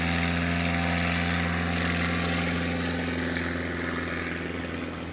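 A STOL airplane's propeller engine drones steadily and loudly at a competition in Pinedale, Wyoming, a continuous close whine with strong harmonic tones that fades slightly toward the end.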